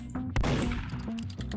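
A single sharp gunshot from the Roblox game Murder Mystery 2 cracks out near the start, followed by softer game sounds and faint, low background voices.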